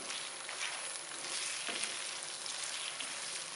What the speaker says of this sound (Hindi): अब चिकन को हमने इसमें भून लेना है।